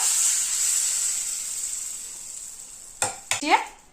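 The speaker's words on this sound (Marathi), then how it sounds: "आणि छान याच्यावर तडका टाकून घ्यायचा आहे." Hot tadka tempering poured onto dal without onion or garlic, a bright sizzle that fades gradually, then a few clattering stirs and scrapes of a spoon in the pot near the end.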